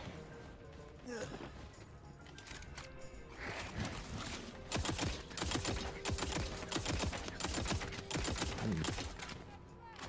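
Three-round burst fire from an assault rifle in a video game, shots crackling in quick repeated clusters throughout amid other game noise.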